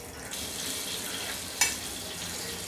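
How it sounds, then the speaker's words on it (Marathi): Green chillies, slit lengthwise, sizzle steadily in hot tempering oil for okra bhaji, a broad even hiss with one sharp crackle partway through and no talk. "तर आता आपण मिरच्या फोडणीला टाकायच्या।"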